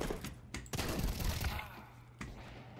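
Gunfire in the video game Counter-Strike 2, a cluster of sharp, loud shots in the first second followed by fainter reports and game noise, with another shot near the end.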